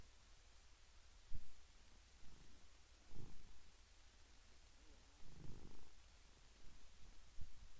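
A cat purrs softly but steadily close by, low rumbling pulses rising and falling with each breath over quiet background hiss.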